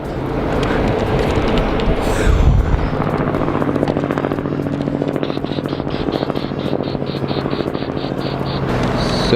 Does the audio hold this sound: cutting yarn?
no